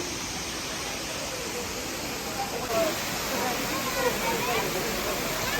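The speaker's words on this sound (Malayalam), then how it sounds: "ഇവിടെ ഒരു ചെറിയൊരു വെള്ളച്ചാട്ടമുണ്ട്." Steady broadband rush of a small waterfall at the Rock Garden in Chandigarh, continuous and fairly soft, with faint trickles and splashes over the top.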